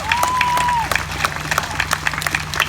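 A crowd at an outdoor Black Lives Matter rally in Darwin applauds, a dense wash of clapping, with a brief whistle-like tone at the start and scattered sharper claps standing out as it continues.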